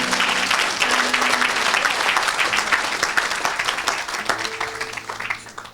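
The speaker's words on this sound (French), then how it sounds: "est-ce qu'on peut acclamer encore pour Jésus?" A church audience applauding and cheering for Jesus, dense sustained clapping from a large crowd that holds steady and then gradually tapers off, with faint sustained tones under the applause.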